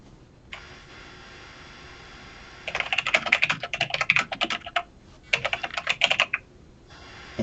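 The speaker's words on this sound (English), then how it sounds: "whoever's typing, we can hear you" Fast typing on a computer keyboard picked up during an online tabletop roleplaying session, two clear bursts of rapid key clicks separated by a short pause, close and distinct over faint background hiss.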